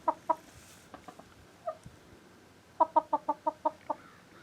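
Chickens cluck inside a coop, a few soft isolated clucks followed by a quick rhythmic run of about eight clucks, moderately close with faint background noise.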